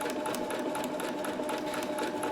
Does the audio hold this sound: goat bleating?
no